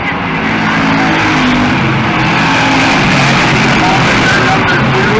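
Street stock race cars roar around Lebanon Valley Speedway in a loud, continuous wash of engine noise, cars blending together at close range.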